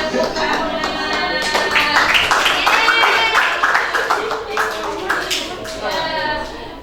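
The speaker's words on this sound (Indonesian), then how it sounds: "Oke, tepuk tangan." A classroom bursts into clapping, a brisk group of hands rising and fading over several seconds, with voices chattering underneath.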